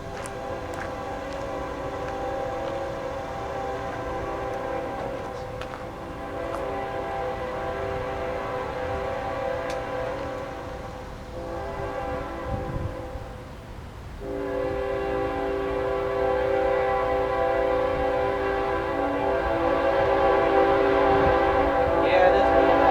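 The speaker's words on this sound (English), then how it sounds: "Norfolk Southern is going to take its turn. Memphis bound train." Norfolk Southern train bound for Memphis, rolling across a rail diamond in northern Mississippi or West Tennessee; a long, loud horn blast sustains throughout, over steady wheel rumble with a brief dip mid-passage before the horn swells again.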